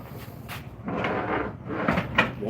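A wooden drawer slides open and shut with soft rumbling scrapes and a knock, fairly close, amid rustling handling noises.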